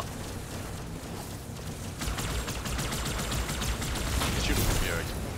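Rapid gunfire in Halo 2 played on Legendary difficulty, a dense crackle of repeated shots starting about two seconds in and holding steady to the end, with players talking over it.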